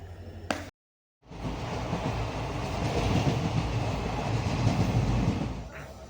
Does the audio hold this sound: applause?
no